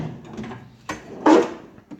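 A junk drawer in a home garage slides open or shut in one short wooden rumble that thumps at the end, with a quieter knock just before it and faint handling noises around it, all close by.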